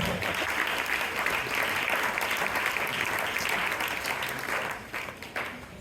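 A church congregation applauds together in a steady, full burst of clapping that holds evenly for several seconds, then thins and tapers off near the end.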